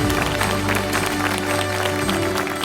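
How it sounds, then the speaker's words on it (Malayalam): Audience at a Catholic Bible quiz grand finale applauding a contestant, a steady dense wash of many hands clapping close and continuous, with a low steady hum underneath. "എല്ലാവരും ജാൻവിക്ക് നല്ലൊരു കയ്യടി കൊടുക്കുക"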